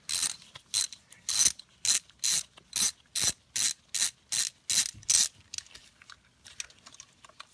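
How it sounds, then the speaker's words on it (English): A Torx T30 socket on a hand ratchet backs out spark plug cover screws on a Mercedes C300 W204, giving a rapid series of crisp ratcheting bursts in a steady rhythm, close and clear, then trailing off into softer scattered clicks. "we've got now a Torx T30 socket here we're going to use to get those screws out"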